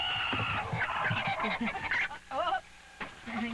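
Domestic chickens clucking and squawking close by, a busy, uneven run of calls with a few higher rising squawks, while a person talks quietly among them.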